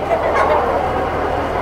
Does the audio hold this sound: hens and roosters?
yes